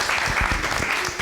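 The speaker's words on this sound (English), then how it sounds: "Give her a round of applause" An audience claps together at an evening humanities event at the University of the District of Columbia, a short, steady burst of applause filling the room at close range.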